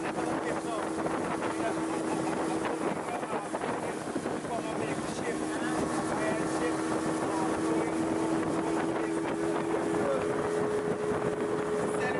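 A motorboat engine drones steadily throughout on the Pomeroon River in Guyana, with a constant tonal hum, wind buffeting the microphone and water rushing past the hull.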